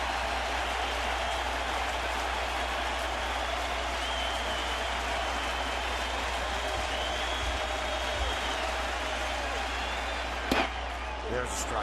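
A large crowd at Yankee Stadium stands and roars through a Red Sox–Yankees baseball game, a steady dense wall of cheering and clapping with a sharp crack near the end.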